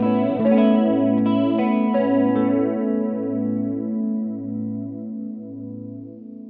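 A Cosmodio Instruments Splinter Twin modulation pedal set to a sine wave shapes sustained guitar chords into a smooth, pulsing chorus-like warble that slowly decays, played alone and fairly loud.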